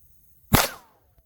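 Heritage Rough Rider .22 Magnum revolver fired once at thick plexiglass, a single sharp crack with a quick decay, alone.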